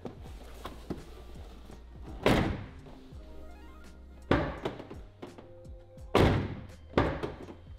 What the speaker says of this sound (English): Door works. Let me just shut it and prove it.